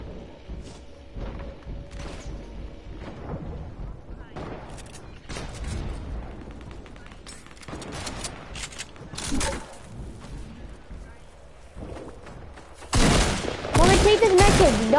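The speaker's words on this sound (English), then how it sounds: "This guy is trying to shoot me down." Gunfire in a PS4 video game: scattered single shots and short bursts, then a loud, dense volley near the end, with occasional talk mixed in.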